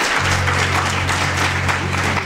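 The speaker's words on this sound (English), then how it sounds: "I want you to give yourselves a round of applause for that." A crowd of women at an annual dialogue event applauds themselves, giving broad, continuous clapping over a low steady hum, fairly loud and even throughout.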